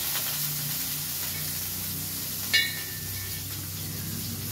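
Garlic and aromatics sizzling in a pan for an adobo of chicken liver and gizzards with potatoes, a soft steady hiss with one brief sharper crackle, nearby and without talk.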